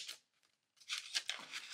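Scissors or a blade cutting and tearing through paper or card to enlarge a hole in a gift wrapping, heard as a few short, crisp, close-up rips separated by a brief pause.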